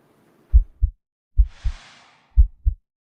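A heartbeat sound effect in a documentary trailer: three deep, close double thumps, evenly spaced, with a faint airy whoosh between the second and third beats.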